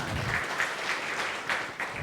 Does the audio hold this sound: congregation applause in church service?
yes